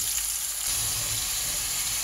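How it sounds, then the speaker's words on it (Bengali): Dried fish frying in a pan with tomato and chili added, a steady close sizzle and hiss running unbroken throughout with no talking. "শুটকির ভিতরে শুটকি ভাজা হয়ে গেছে, টমেটো আর মরিচ অ্যাড করলাম"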